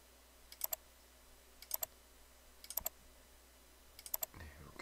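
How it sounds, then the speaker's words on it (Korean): Computer mouse clicking while drawing a curve in SketchUp, heard as quick paired clicks repeating about once per second, faint and close, over a quiet background hum with no talking. "클릭을 해 가면서"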